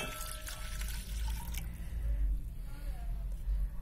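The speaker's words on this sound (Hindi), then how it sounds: "इसमें मैं 1 कप मिल्क ऐड कर दूंगी।" Milk poured into a pot of ginger tea already simmering on the stove, giving a soft liquid splashing and trickling over a low steady background hum, close by and fairly quiet.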